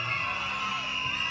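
Crowd cheering and whooping at a table tennis final, a dense steady wash of voices and shouts at moderate loudness with no pauses.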